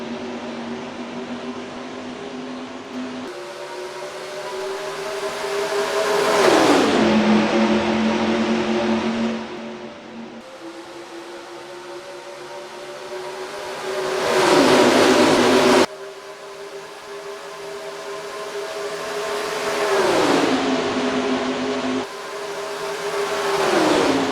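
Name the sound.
race cars starting at Las Vegas in NASCAR Racing 2003 video game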